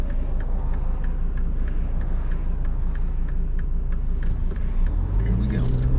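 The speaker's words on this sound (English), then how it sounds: "I'll punch it a little bit, show you how the car accelerates." A 1991 Mercedes-Benz 300D 2.5 turbodiesel car accelerates with a steady, loud engine drone from inside the cabin, a regular ticking running through it and the engine note rising toward the end.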